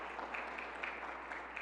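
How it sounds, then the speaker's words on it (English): An audience applauding at a school event, a brief burst of steady clapping that sounds soft and somewhat distant. "Let's give that a round of applause."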